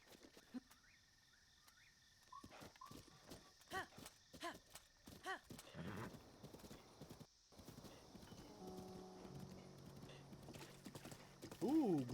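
Horse hooves clip-clop in a steady rhythm in The Legend of Zelda: Breath of the Wild in the Necluda region, with soft ambient chirps of insects behind the quiet trot.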